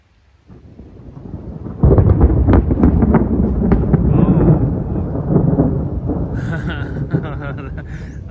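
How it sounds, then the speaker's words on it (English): Loud, close thunderclap during a storm, a sharp crack swelling into a long deep rumble that slowly fades, with faint background noise trailing behind. "Wait for the thunder."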